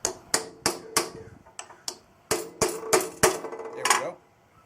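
A three-inch carriage bolt is tapped into place in a golf ball joint project, giving a series of sharp metallic knocks, about a dozen, spaced irregularly and heard close up with a brief scraping sound near the end.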